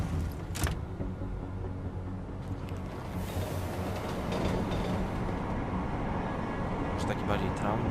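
A train rolls along steadily in the game Deus Ex: Mankind Divided, a continuous rumbling clatter that swells partway through, with a few sharp clicks and knocks on top.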